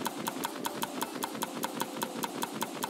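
Items are crafted in the survival video game Raft, a rapid, steady run of short clicking taps, about six per second, over a busy mechanical whirring background, with no talking.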